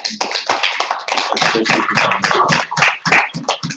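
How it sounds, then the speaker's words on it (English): Loud, steady applause from a crowd, a dense wash of many hands clapping close by for several seconds. "I'd like to call on you to give them a warm hand of applause."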